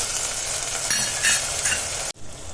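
Tuvar dal khichdi with chopped potatoes and spices is stirred in a pot over the heat, a steady sizzle with scraping stirs that cuts off abruptly near the end.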